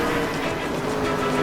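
A train in L.A. Noire rumbles steadily past, a dense, loud mechanical roar with faint clattering, close and continuous for a moment.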